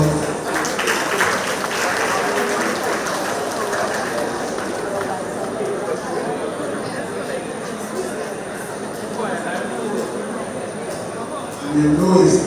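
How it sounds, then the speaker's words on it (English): Sustained applause from an audience at a community centre monthly meeting as a speaker comes on stage, a dense steady clapping wash lasting the whole stretch, swelling louder right at the end. "Could you bring her with a round of applause?"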